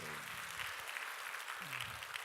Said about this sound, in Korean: 오 할렐루야 박수로 하십시다.